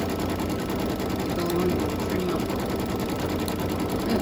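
An embroidery machine stitching a bat design, a steady, fast mechanical whirring drone with rapid repetitive needle ticking, close and continuous without pause.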